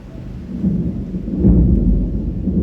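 A thunderstorm rolls over Bangkok, with a deep, loud rumble of thunder that swells and lingers over a steady wash of rain. No one speaks.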